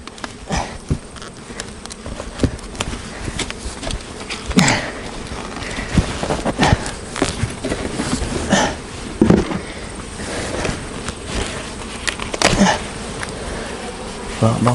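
Agitated honeybees swarm around an opened hive during a colony inspection, filling the air with a dense, continuous buzz and close passes of individual bees, mixed with handling noises.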